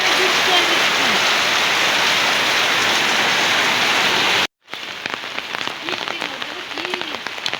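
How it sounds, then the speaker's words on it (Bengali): Heavy rain pours in a loud, dense roar around a rural village home, broken by a brief silent cut before the downpour resumes with a voice speaking over it. "প্রচুর বৃষ্টি হইতেছে আমাদের এখানে"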